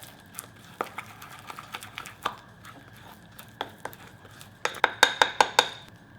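Rice flour dough for injeolmi, mixed with sugar, salt and water, being stirred in a bowl: a run of light clinks and taps of a utensil against the bowl, sparse at first and then quicker and louder near the end, with no talking.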